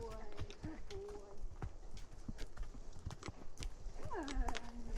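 Hooves of Ruach, a horse new to carrying a rider on slopes, clop unevenly on a downhill trail, the steps loud and close, mixed with tack rattle, rustling and an occasional whinny-like call.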